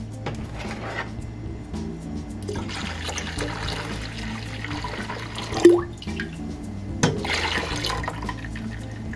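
Homemade sorrel drink is poured from one vessel back into a pot, a trickling, splashing liquid stream in a couple of bursts, with a quiet clink partway through.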